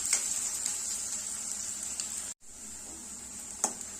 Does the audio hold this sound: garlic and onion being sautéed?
yes